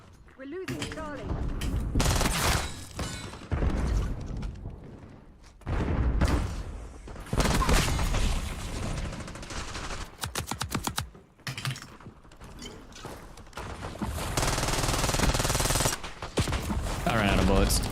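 Rapid bursts of automatic gunfire in a multiplayer shooter game, crackling volleys that stop and start over the whole stretch, loud and close, with voices talking among the shots.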